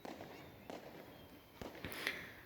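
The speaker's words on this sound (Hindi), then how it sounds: "और देखें जी, पटाखे पे पटाखा" Fireworks and firecrackers pop and crack during New Year celebrations in Pakistan, several sharp bangs spread out in the distance over a low background hiss, with a few louder bursts near the end.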